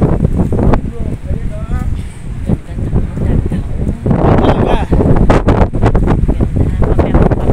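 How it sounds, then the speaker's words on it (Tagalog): Strong wind on Boracay beach roars and buffets the microphone in heavy low gusts, loud and close, while people chat over it. "Lakas ng hangin, ano?"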